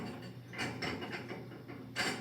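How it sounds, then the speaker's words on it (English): A wing nut spun onto the adapter shaft of a Hunter GSP 9600 wheel balancer makes a faint, quiet ratcheting whir with a few soft metallic clicks. "So we have our other wing nut here that we're going to use and spin that on."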